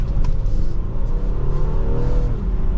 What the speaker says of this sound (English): The engine will rev out a little bit.